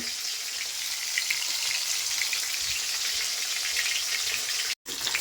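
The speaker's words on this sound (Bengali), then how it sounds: "ইলিশ মাছের মাথাগুলো ভেজে নিচ্ছি" Hilsa fish heads fry in hot oil in a home kitchen, a dense, even crackling sizzle throughout, close and steady, cut by a brief dropout near the end.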